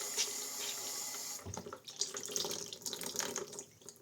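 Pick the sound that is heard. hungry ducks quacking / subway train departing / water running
water running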